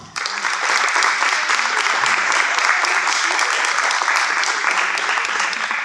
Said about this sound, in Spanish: a quienes pido un fuerte aplauso